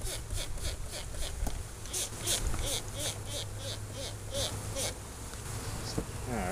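A freshly caught honeybee swarm buzzing in a faint, steady drone under a low hum, with soft pulsing swells of wingbeat noise through the whole stretch.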